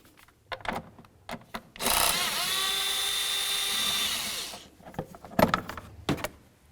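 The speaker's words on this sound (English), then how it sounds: "Let's get this cover off of here using our 8mm socket." Power tool or ratchet driving an 8mm socket to remove the intake manifold cover on a 1999-2007 Chevy Silverado; a steady whirring buzz runs about two seconds, bracketed by brief clicks and clanks of handling.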